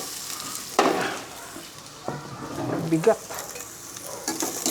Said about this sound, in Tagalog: Igigisa po natin yung tahong.